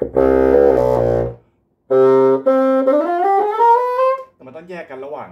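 A handmade bassoon reed test-blown on its own, giving loud, buzzy, raspy tones in two short bursts, the second sliding upward in pitch, followed by a brief softer squawk.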